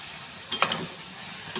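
Prawns and taro greens with salt and turmeric being stirred in a pan, a low sizzle broken by a few quick scraping clinks of the spoon, then a brief pause and one more scrape.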